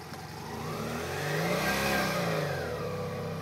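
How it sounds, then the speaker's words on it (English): A BMW motorcycle revs steadily as it loops around a front yard, its engine note rising and swelling toward the middle before easing slightly, heard close and continuous with no talk. "Doing a loop in the front yard on my bike."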